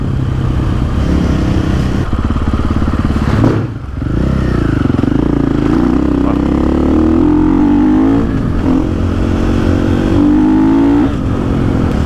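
A 2024 KTM 500 EXC-F motorcycle rides on a wet road, its engine loud and close as it revs hard and shifts up through the gears with a quickshifter, with a brief dip in power at one gear change.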